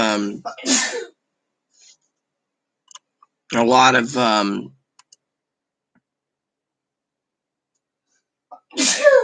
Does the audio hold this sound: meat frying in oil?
no